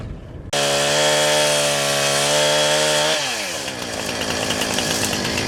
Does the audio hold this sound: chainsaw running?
yes